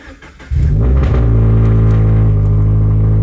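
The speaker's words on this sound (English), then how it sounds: "let's see how loud my car is" A Toyota 86 TRD Special Edition engine starts abruptly and settles into a loud, deep, throaty idle rumble from a loud aftermarket exhaust, close by, with no talking.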